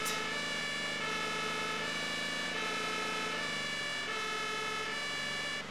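Emergency vehicle siren in the video game Emergency 112, a steady loud wailing tone with rich harmonics, sounding continuously and close with no talk over it.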